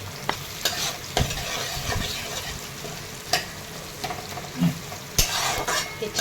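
Green chillies and onion fry in a pan with a soft, constant sizzle while a spoon scrapes and taps against the metal in irregular stirring strokes, close by and fairly quiet, with no speech.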